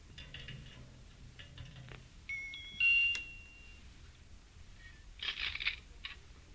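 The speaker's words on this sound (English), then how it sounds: "I'm going to ring the bell again." A doorbell chimes with electronic tones at moderate level, in a quiet room, with faint clicks and a brief rustle before and after.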